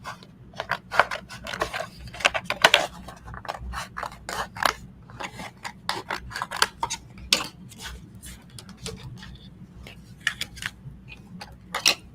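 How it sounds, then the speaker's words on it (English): Scissors cutting out a paper image in a Cricut crafting session, a steady series of sharp close snips and paper rustles in an uneven rhythm, fairly quiet with no speech. "Now you're going to go ahead and take your scissors."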